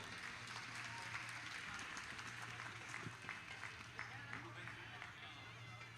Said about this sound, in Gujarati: જોરદાર તાળીઓના નાદથી વધાવીશું